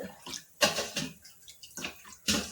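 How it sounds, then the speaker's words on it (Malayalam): Epsom salt water poured onto flowering plants, several short splashing pours in separate bursts, close by with brief pauses between them and no talking. "നമുക്ക് എല്ലാ പ്ലാന്റ്സിനും ഒഴിച്ചു കൊടുക്കാം എപ്സം സോൾട്ട്"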